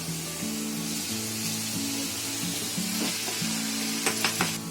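Cooked rice tipped into a hot pan with potatoes and mint for pudina rice, giving a steady close sizzle and frying hiss under a low hum, with a few sharp scrape and stir clatters near the end.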